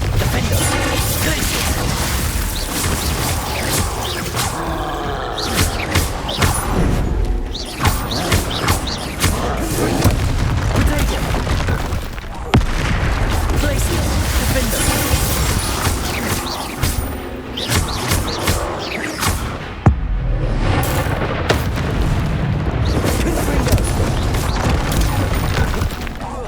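Repeated Confringo fire spell explosions in the Hogwarts Legacy video game, loud booming thuds and crashes recurring throughout amid dense, continuous game combat noise.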